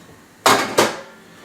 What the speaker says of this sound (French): Je vais vider la vaisselle.